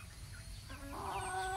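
Sebright and US Silky chickens clucking in a short, faint, close burst over a steady low background hum.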